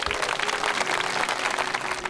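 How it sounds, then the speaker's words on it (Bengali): Audience at a Baul music show grand final breaks into loud, sustained applause, dense rapid clapping from a large crowd that holds steady throughout. "তার জন্য জোরে একটা করতালি।"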